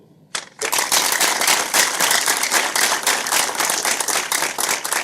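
Studio audience applause at a Nigerian TV quiz show, dense clapping that bursts in suddenly after a brief quiet moment and carries on loudly and steadily.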